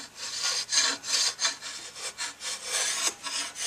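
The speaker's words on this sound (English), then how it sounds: "Come back to it with the rounded scraper. And I'll just do this the entire length of the bow." A rounded scraper shaves wood along an Osage orange longbow, giving repeated rhythmic rasping strokes, about ten in a row, close up and fairly loud with no talk.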